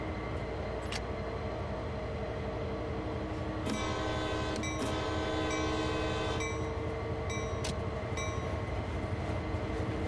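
A freight train in the Train Sim World 2 video game on the Sand Patch Grade route rumbles steadily as it begins to move, with a horn sounding in several short blasts midway and again near the end.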